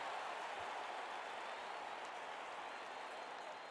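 A stadium crowd at an indoor-league football game, Canton at Indianapolis, roars in a steady, sustained wash of cheering that fills the whole stretch, distant and even.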